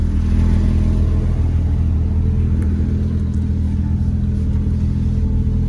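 Porsche car engines rumble steadily during a rally, a loud, continuous low drone with no let-up, close by and with no talk over it.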